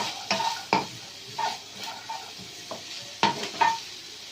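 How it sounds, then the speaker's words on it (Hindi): Capsicum, carrot and peas being stirred in a pan as they cook, with a spoon scraping and clattering in several distinct strokes over a soft background sizzle, close and moderately loud. "अब हम इसे मिक्स करेंगे तो कुक होने तक।"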